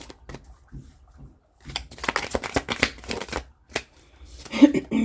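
Tarot cards are shuffled and drawn from a deck, giving quick papery riffles and flicks in bursts, close and fairly quiet, with a brief pause before a denser run of shuffling.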